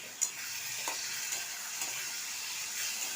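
Egg curry masala with kasuri methi and a splash of water sizzles steadily in a pan, with a soft continuous hiss and a few faint stirring clicks, and no talking.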